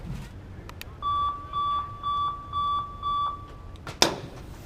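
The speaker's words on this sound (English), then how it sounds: "You'll hear those 5 beeps. The gate will go up." Five evenly spaced electronic beeps, steady and mid-pitched, from a BMX start gate, followed by a sharp clack as the gate drops.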